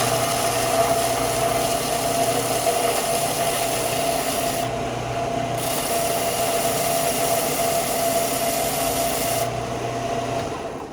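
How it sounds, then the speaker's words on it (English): A belt sander runs continuously at a steady, loud, droning whine with a constant pitch, the tone shifting briefly twice as the workpiece is pressed against the belt. "belt sander real quick"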